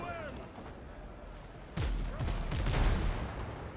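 Pirate ship cannons in a naval video game battle fire a broadband blast that strikes the enemy's sails, followed by a rolling burst of boomy impacts over a steady sea-and-wind bed.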